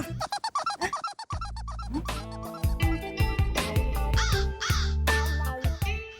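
Crows cawing from a rooftop, a run of harsh rapid caws followed by a busier stretch of overlapping calls, close and fairly loud.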